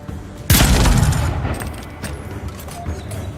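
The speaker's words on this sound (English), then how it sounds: "Firing from behind cover." A loud, close blast of gunfire from the video game Avowed bursts out suddenly, then decays into a rumbling tail with scattered fainter shots and rattles behind it.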